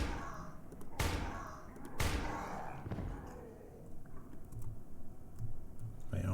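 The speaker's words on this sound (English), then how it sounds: "I think he's hitting another barricade now" Two heavy thuds, about a second apart, as a monster strikes a wooden barricade in Darkwood, with softer knocks and scattered clicks afterward over a quiet, low background.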